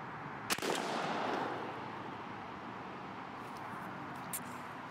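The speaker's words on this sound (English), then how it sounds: "Now we are going to shoot the Verdict, which are a 9-shot." A 28 gauge shotgun loaded with a 9-shot turkey load fires one sharp blast outdoors, which rolls off into a long, broad rumble and echo.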